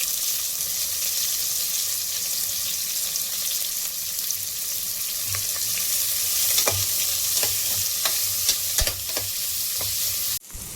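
Onions cut into large pieces sizzle and crackle steadily in a hot pan for paneer pulao, with occasional stirring clicks and scrapes near the end; no talking.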